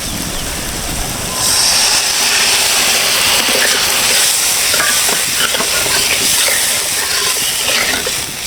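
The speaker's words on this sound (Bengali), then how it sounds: "এখন এই নারকেলের দুধটা দিয়ে দেবো।" Coconut milk poured into a hot pan while cooking Bengali prawn malaikari, setting off a loud, steady sizzling hiss that swells after a quieter start and continues with faint stirring.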